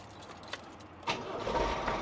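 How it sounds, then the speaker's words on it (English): A big old Ford engine cranks on a nearly flat battery and then catches, the starter whir rising into a steady idle after a second of quieter clicks and jangles. "That's a big old Ford engine."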